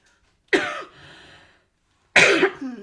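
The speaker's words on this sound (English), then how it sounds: "Sorry about that coughing." Two separate harsh coughs, close and loud, with a short raspy breath or throat noise after the first and a brief pause between them.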